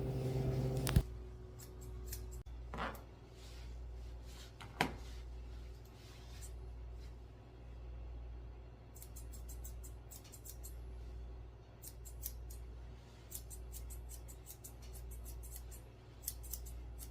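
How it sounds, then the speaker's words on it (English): Curved grooming scissors snip a Bichon-Shih dog's hair, giving close, crisp clicks in quick bursts and scattered single cuts over a low steady hum, with no talking. "I'm using my curved scissors to trim up her eyebrows."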